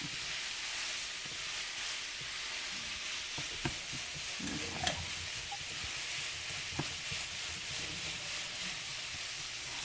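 Blanched, coated almonds sizzling steadily in a hot pan for a stir-fry, a soft continuous frying hiss with a few faint clicks of stirring, heard alone without talk.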